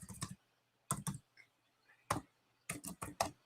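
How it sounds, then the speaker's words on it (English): Typing on a computer keyboard, heard as quick, close bursts of crisp key clicks separated by short quiet pauses. "If you hear clicking in the background, it's me typing in my email."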